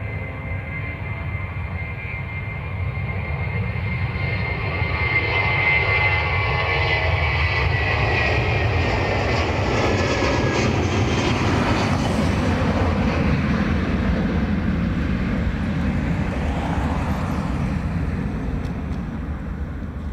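A jet airliner departs runway 28 right at Dublin Airport, a loud continuous engine roar that builds and sweeps past over about twenty seconds, heard alone.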